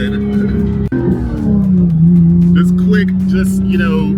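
Porsche 911 992.1 GT3 flat-six with an aftermarket exhaust, a loud near engine note that drops in pitch then settles into a steady droning tone, with brief crackles near the end.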